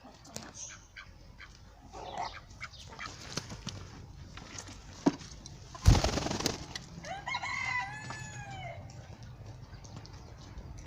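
Farmyard chickens and roosters of mixed breeds, including Plymouth, Denizli and Lohmann, call at a distance after rain, with a rooster's crow near the end, over soft rustling and a sudden loud burst of noise midway.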